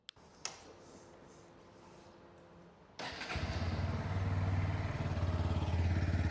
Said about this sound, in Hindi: ये है guys under Bailey exhaust and idol sound है